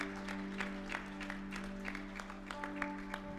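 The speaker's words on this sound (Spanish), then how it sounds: "Un aplauso." A church congregation at a Sunday service claps in faint, scattered bursts over soft sustained instrumental music, sounding distant and thin rather than full applause.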